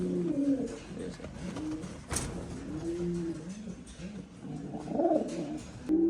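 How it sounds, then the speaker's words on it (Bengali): A pair of Hyderabadi Neela pigeons, an Indian high-flyer breed sitting on eggs, coo in soft repeated rolling calls, close by, with a sharp knock partway through. "এক পেয়ার হায়দ্রাবাদি নীলা আছে এটা ইন্ডিয়ান একটা হাই ফ্লায়ার রানিং পেয়ার"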